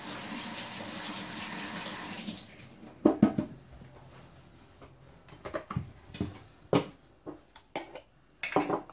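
Running kitchen tap water pours over hands being washed after handling crushed garlic. A steady rush lasts about two seconds, followed by scattered close clinks and knocks as items are handled.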